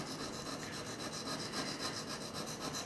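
A cheap ruling pen is rubbed on 340-grit wet and dry paper in quick, even back-and-forth strokes that make a soft, continuous scratchy rasp close by, with no voices.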